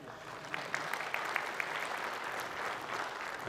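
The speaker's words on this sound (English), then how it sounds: "applause for Payman for not getting fired today." Brief, fairly faint applause from an audience at a tech conference session, with a few sharper individual claps standing out over a soft steady patter.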